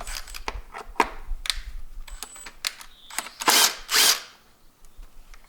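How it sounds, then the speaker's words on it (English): Close, uneven ratcheting clicks and rattles from a power tool loosening a bolt on an engine near a leaking sensor, with two louder bursts of whirring toward the end. "Then I open this bolt."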